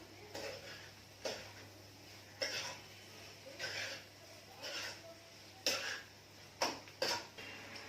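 Several short coughs spaced irregularly over a low steady hum, fairly quiet and close, with a faint clatter between them.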